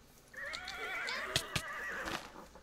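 A horse in Pixelmon modded Minecraft 1.6.4 gives one long whinny, loud and close, with its pitch wavering throughout. A few sharp clicks cut through the call.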